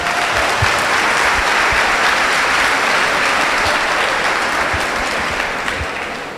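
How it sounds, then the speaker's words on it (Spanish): A congregation inside a Catholic church breaks into sustained applause for a visiting Protestant pastor, loud, dense clapping that holds steady and then tapers slightly at the end. "un aplauso pues para el hermano"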